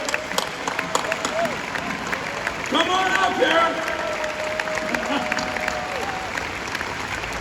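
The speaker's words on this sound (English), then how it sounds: "Can you help me with a warm round of applause for Britain's own?" Arena crowd at Motorpoint Arena Nottingham gives a warm round of applause and cheers as guests on their motorbike trip are welcomed onstage; steady clapping runs beneath a host's amplified voice.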